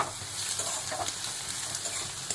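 Chopped onions, just turning reddish, sizzle steadily in a pan with a continuous close hiss, broken by the scrape of occasional stirring.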